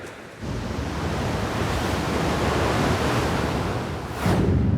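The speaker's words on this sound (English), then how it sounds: "We can hear the water moving in and out, can't we?" Seawater of the tide washing in and out on a beach, a steady broadband surf rush that swells again near the end, with no voices.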